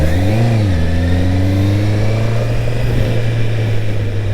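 Motorcycle accelerating while riding, the engine note rising quickly and then holding a steady drone with constant wind rush, loud and close.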